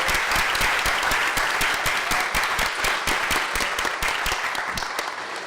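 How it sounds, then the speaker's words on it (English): A seminar audience gives a steady round of applause for drinks sponsors, many hands clapping at once, loud and sustained without talk. "if I can ask everybody for a round of applause to Campari America"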